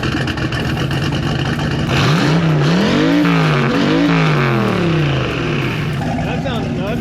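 A 900HP big-turbo Batmobile build's engine revs hard, its pitch climbing and dipping through several surges before it drives off, loud and close under background talk.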